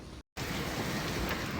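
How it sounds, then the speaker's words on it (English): Heavy rain pours down in a dense, steady roar, loud and close, with a brief moment of silence near the start before the downpour resumes. "it's raining cats and dogs."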